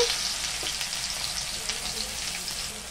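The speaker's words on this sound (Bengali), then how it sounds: "তেল গরম হয়ে গেছে, ওতে শুকনো লঙ্কা দিচ্ছি দুটো তিনটে, একটা পেঁয়াজ কুচনো দিচ্ছি" Dried red chilies and chopped onion fry in hot oil for a jackfruit bhorta, giving a steady, close, loud sizzle that crackles evenly throughout with no voices.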